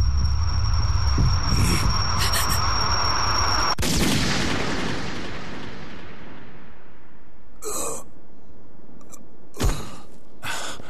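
A sharp gunshot cracks out in Persona 3 FES, cutting off a bright sustained tone. After a stretch of fading noise, a few shorter bursts follow further apart, with no talking.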